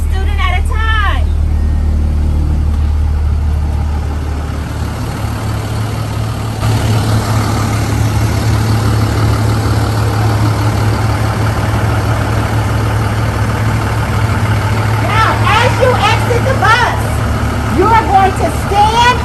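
A school bus engine idles with a steady low rumble throughout, while voices talk over it near the start and end.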